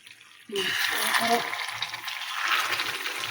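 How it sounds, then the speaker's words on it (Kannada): Brinjal and chickpea curry boiling vigorously in a pot. A sudden rush of bubbling, hissing sound starts as the lid comes off and carries on steadily, with a voice speaking over it. "ಈಗ ಕುದೀತಾ ಇದೆ, ತೆಗಿತೇನೆ ನೋಡಿ. ನೋಡಿ ಎಷ್ಟು ಕುದೀತಾ ಇದೆ."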